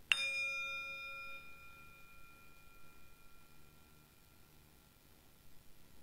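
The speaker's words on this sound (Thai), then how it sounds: "กวนอาจารย์ตีระฆังกันหน่อยนะฮะสักใบหนึ่งก็ได้ครับ" A bell struck once during a Lanna music training session gives a sharp attack and then bright, pure ringing partials that fade slowly into a quiet room.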